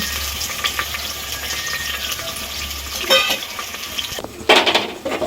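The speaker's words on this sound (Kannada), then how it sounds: "ಈಗ ನೋಡಿ ಎಣ್ಣೆ ಕಾದಿದೆ ಈರುಳ್ಳಿ ಹಾಕ್ತಾ ಇದ್ದೀನಿ" Onions frying in hot oil for a cauliflower kurma, with steady bright sizzling throughout, punctuated by stirring and a few clinks of utensil against the pan.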